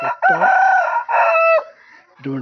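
A rooster crows nearby in a loud, drawn-out call, followed by another short burst of crowing, clear and close with little else around it.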